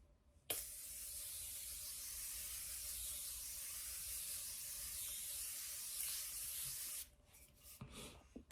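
Setting spray misted onto a face during a makeup routine, a steady airy hiss lasting about six and a half seconds, close and fairly loud, ending abruptly, followed by faint rustling.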